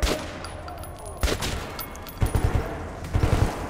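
Enemy gunfire in Metro 2033 Redux, a few sharp bursts of shots about a second apart, separated by quieter gaps with faint background noise.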